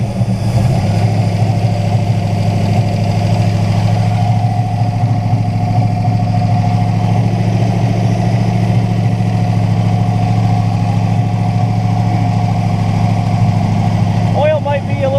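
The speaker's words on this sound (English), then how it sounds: "Listen to that thing idle, hey?" A 1968 Buick Skylark's engine idles steadily and close by, a constant low rumble that holds throughout, with a brief higher sound near the end.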